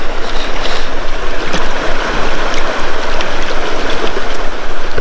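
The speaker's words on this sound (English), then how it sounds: "Let's just pan out our targets and see what we have." Steady sloshing and swirling of water in a gold pan as shale and dirt from bedrock are washed out, a continuous close wet churn with no talking.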